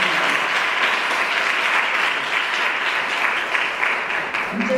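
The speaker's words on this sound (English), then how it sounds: "can I ask for a round of applause for all of those?" Sustained applause from a town hall audience at a Harlem arts community event, steady and dense throughout, filling the room without pause and fading slightly at the end.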